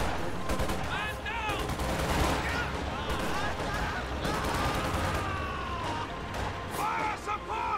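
Video game battle with rapid gunfire and fire-support barrages, steady crackling volleys and bursts with whistling, siren-like tones throughout, while a voice talks over the action.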